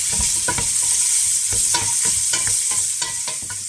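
Onions, peppercorns and bay leaves fry in a pot for a rustic lentil soup, giving a close, constant sizzle broken by repeated stirring scrapes and clacks at an uneven rhythm.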